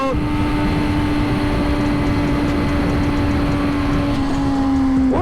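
A car passes close by a rider on a Suzuki GSX-R1000 sport bike, its engine noise swelling briefly over the motorcycle's steady drone and wind rush.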